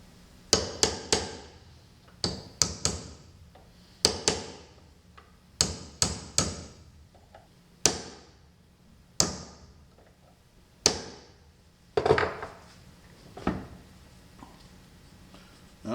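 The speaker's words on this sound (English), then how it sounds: "I'm going to take a pin punch and just tap on both sides of these until I get this to slide even with the other part." A steel pin punch is struck against a shaded pole induction motor's field held in a vise: about fifteen sharp metallic taps in irregular bursts, some in quick pairs, close and fairly loud with clear ringing decays and no talk.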